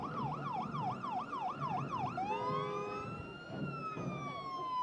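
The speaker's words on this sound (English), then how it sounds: "now why is there a siren going off in the middle of the parade?" Loud police siren wailing in rapid yelp cycles during a street parade, then shifting into a long rising and falling tone, over traffic and crowd noise.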